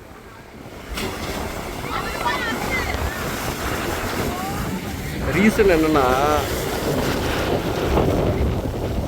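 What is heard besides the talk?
sea waves surging at Poompuhar beach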